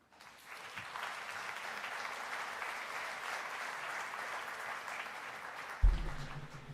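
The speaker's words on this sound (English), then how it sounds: "can I get a big round of applause for the Minister of Environment of Italy, Gilberto Piletto Frattini." Conference hall audience applauding an Italian environment minister, a moderate even round of clapping that starts softly, holds steady and ends with a thump near the microphone.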